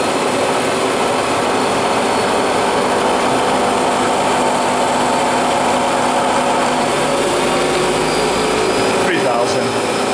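Bridgeport Series II vertical milling machine with its spindle running: a loud, steady mechanical whir and hum holding constant, with a brief shift in tone near the end.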